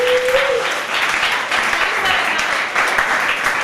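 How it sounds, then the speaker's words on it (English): Audience applause for a slam poet after judges' scores are read at a poetry slam, a steady crowd clapping throughout with some voices mixed in. "Applaud that poet, please."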